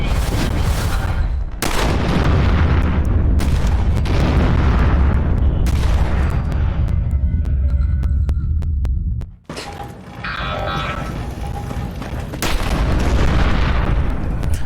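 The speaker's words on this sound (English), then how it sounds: "So many explosions!" Loud, continuous barrage of explosions and booming blasts with rapid gunfire in Fallout 4 VR, a brief lull midway, then heavy blasts resume.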